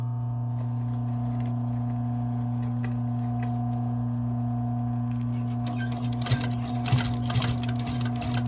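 A sewing machine stitching the lining of a Chanel jacket, running continuously with a steady low motor hum and a rhythmic needle whir, with fabric handling and clatter joining in toward the end.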